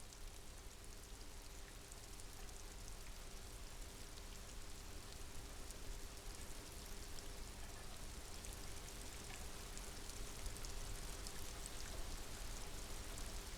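Steady rain hisses continuously in the video game Disco Elysium, a dense wash of patter with a faint low hum beneath and no voices.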